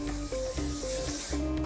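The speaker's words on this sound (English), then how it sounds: "give it a little bit of spray oil." Cooking spray hisses onto a preheated waffle iron in a short, steady burst, heard alone over a low background hum with a faint tonal drone.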